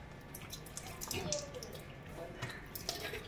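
Water trickles and drips from a tulsi stand into a basin below, a soft close patter with a few distinct drops.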